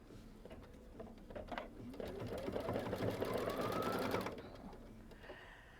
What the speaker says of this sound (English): it's going to stitch out those registration marks